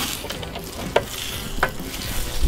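Large chicken wings sizzle and crackle over a Weber kettle grill, a steady close frying hiss with a few sharp pops and no talk.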